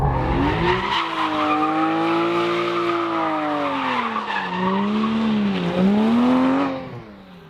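Tires of a 2014 Porsche 911 GT3 squeal loudly in a sustained, wavering howl during induced oversteer, the pitch dipping and rising with the slide before fading out at the end.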